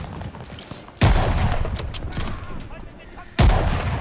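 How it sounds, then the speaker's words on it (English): Two sharp, loud rifle shots ring out in a Call of Duty: Vanguard firefight in a hotel lobby, about two and a half seconds apart. Each shot is followed by a rumbling tail over constant battle noise. "Alright, I'm gonna have to shoot."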